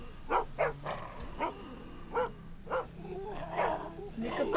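In The Walking Dead: The Telltale Definitive Series video game, a dog gives a series of short, high whimpers and yelps, spaced irregularly and closely recorded, with faint background noise between them.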